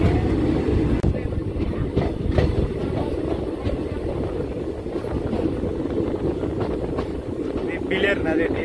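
A passenger train on the Madanapalli to Tirupati line rumbles steadily along the rails with a constant low roar, faint clatter and wind buffeting, heard from aboard.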